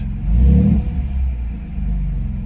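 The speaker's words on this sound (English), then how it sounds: "Good little rumble to it, but I don't think it's too loud. It doesn't sound muffled like some of those other mufflers." A 2024 Ford Ranger with a 2.7L engine and a DIY exhaust muffler idles close by in a deep, steady rumble that swells briefly in a light rev, then settles back to an even low drone.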